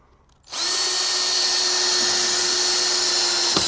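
Power drill driving roofing screws into a greenhouse, a steady close whine that starts abruptly and holds loud and even for about three seconds, with a faint knock near the end and no voices.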